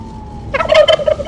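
A live turkey at a Thanksgiving turkey pardoning ceremony gobbles in a quick rattling burst of several close, loud warbling calls, preceded by a quiet moment.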